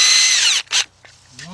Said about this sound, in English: I got my 10mm deep. My cordless impact.